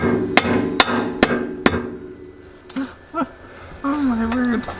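Four sharp hammer strikes ring out on the upper control arm of an old Honda, evenly spaced, followed by a short exclamation and a brief voiced sound.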